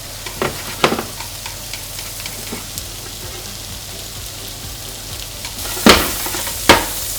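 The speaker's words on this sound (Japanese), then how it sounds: "バター入れてバターで炒めていきます" Peeled shrimp and garlic fry in butter over medium heat, a soft, steady sizzle punctuated by a few sharp clattering stirs near the start and two loud bursts toward the end.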